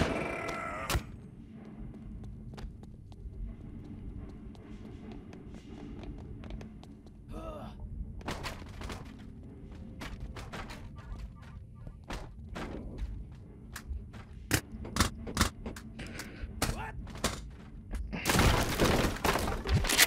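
Gunshots in the VR shooter game Boneworks ring out as sharp, scattered cracks through a continuous murmur of game noise, with a louder burst of activity near the end.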